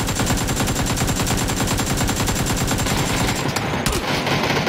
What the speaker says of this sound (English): Did you see how many shots I fired?